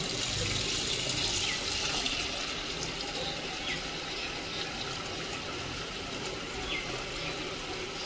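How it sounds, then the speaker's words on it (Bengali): Water pours steadily into a cracked bowl, a continuous close splashing rush that holds at an even level throughout. "যতটা ফাটা ঠিক ততটাই আর কি জল নিয়ে নিলাম"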